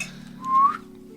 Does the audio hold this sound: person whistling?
yes